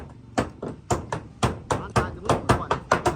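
Hammering nails while building a wooden bridge: a steady run of sharp, close blows, roughly three per second, each crack ringing briefly before the next strike, with no talk over it.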